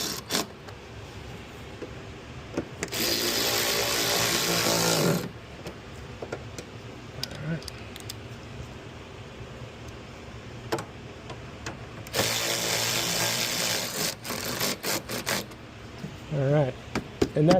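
A power tool tightens splash guard bolts on a 2018-2022 Jeep Wrangler JL in two loud bursts of whirring several seconds long, separated by quieter clicking handling noise and scattered small clanks.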